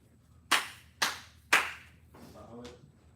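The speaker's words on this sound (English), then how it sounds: "Give me a good clap, Pat." Three sharp, evenly spaced hand claps ring out close to the microphone during a mic check, followed by a brief, quieter voice.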